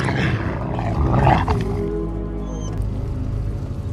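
A pack of wolves in the prehistoric film Alpha, heard as a loud, close, rumbling growl that swells and then trails into a lower snarl over a dark background rumble.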